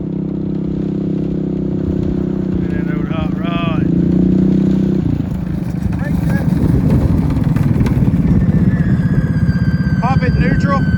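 A restored 1990s monster truck engine runs with a steady low idle rumble that shifts and roughens midway, loud and close, while people talk over it.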